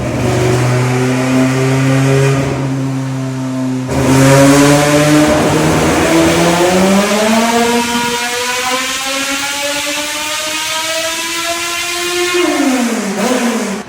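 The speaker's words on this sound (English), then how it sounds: "My car is up on a dyno." A Honda Civic all-motor engine revs steadily upward through the gears under load on a dyno, loud and sustained, pitch climbing then dropping sharply near the end.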